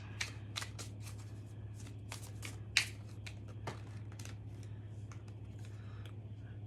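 Tarot cards being shuffled by hand, a quiet series of quick crisp riffling and slapping bursts over a low steady hum, with one sharper snap near the middle.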